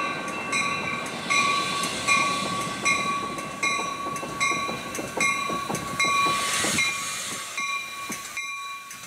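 A Chicago train rumbles steadily past, its wheels clattering rhythmically on the rails, with a sustained high tone over the noise and no speech.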